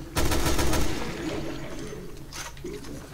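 Gunfire in Resident Evil: Revelations 2, a loud burst of rapid shots up front followed by a couple of fainter cracks under a noisy background.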